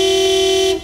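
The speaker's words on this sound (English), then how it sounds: "Beeping won't make the cars go any faster, Daddy Pig." A single steady cartoon car horn blares loud and close for almost a second in a traffic jam, then cuts off abruptly.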